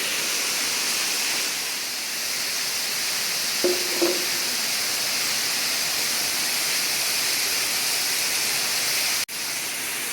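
Steady broadband rushing of a waterfall pouring into a 109-foot vertical cave pit, a constant hiss filling the whole span with a couple of brief faint knocks midway and a sudden short dropout near the end.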